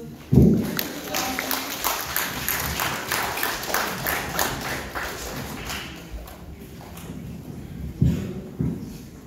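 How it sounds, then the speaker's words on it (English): An audience applauds at a Samoan Seventh-day Adventist youth drama performance, with steady, dense clapping that carries on for several seconds and a few sharper thumps near the start and end. "Can we all give them a hand of applause?"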